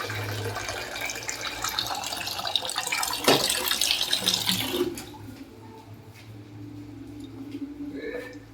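Water pours and splashes steadily for several seconds, then stops, leaving quieter kitchen sounds.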